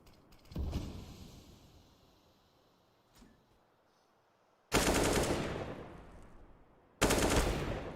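Pistol gunfire in a Counter-Strike match: a single sharp shot early, then two loud, dense bursts of shots with trailing echoes, heard alone without talk.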